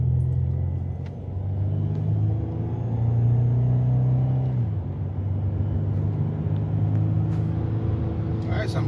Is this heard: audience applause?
no